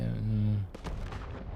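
Gunfire in the post-apocalyptic strategy RPG Wasteland 3, a sharp burst of several shots after a sustained tonal game sound, echoing close and loud.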